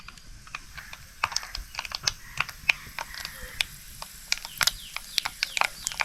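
Mustard seeds crackling and popping in hot oil for a Maharashtrian masoor dal tempering, heard as rapid, irregular sharp pops scattered over a soft, steady background, close and fairly loud, with no talking.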